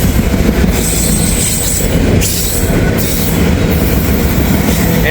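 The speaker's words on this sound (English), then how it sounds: "These auto-rack trains are monsters." Auto-rack freight train passing close by, a loud continuous rumble of wheels and cars with a high steel wheel squeal and rattling clatter throughout.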